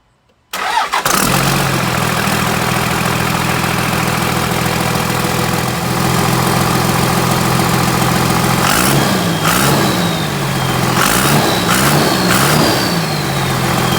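A turbocharged engine fitted with a 4-inch MBRP stainless steel exhaust starts abruptly, then holds a loud, steady idle, followed by several close, rising-and-falling revs in quick succession near the end, with no talking.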